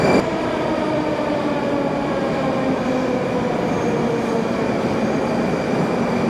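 A subway train rumbles loudly and steadily through a Moscow metro station, with a sustained mechanical drone and faint high whining tones from the wheels.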